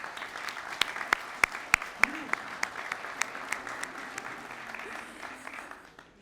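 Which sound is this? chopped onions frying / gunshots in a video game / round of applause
round of applause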